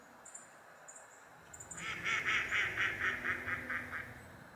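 A run of about eight quick, rhythmic duck quacks, fairly close and steady, after a quieter stretch with faint high calls.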